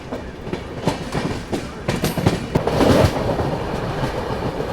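A Bihar Sampark Kranti Express rolls along its rails with a steady rumble and repeated rhythmic clickety-clack of the wheels over the joints, close and moderately loud, growing a bit busier toward the end.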